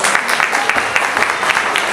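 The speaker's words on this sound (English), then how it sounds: "Please give Shivani, Trinika and Kushi one more round of applause." Steady applause from an audience at a Kuchipudi dance recital, a dense wash of clapping that fills the whole moment without pause.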